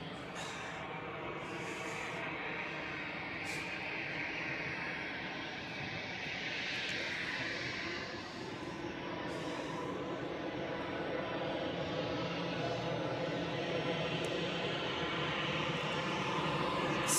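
Swiss Airbus A320 in Star Alliance livery at Zurich airport, a steady jet engine rumble and whine that builds gradually, with a few brief clicks over the continuous drone.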